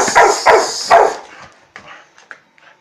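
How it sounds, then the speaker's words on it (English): A dog barks near and loud at home while cardboard is being flattened for recycling: three sharp barks in quick succession, then a few softer yips and whimpers. "You can't do anything but bark."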